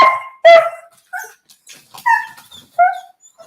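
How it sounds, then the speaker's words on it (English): A dog barks indoors in a close, loud series of five or six sharp yips and barks, each followed by a short pause, heard on its own with no talking over it. "It may be the other dog."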